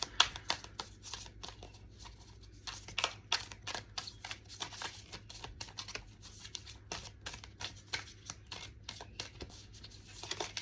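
Tarot cards shuffled by hand in a quiet room, repeated crisp riffling bursts and soft slaps in an uneven rhythm, close and fairly faint, with no talk over it.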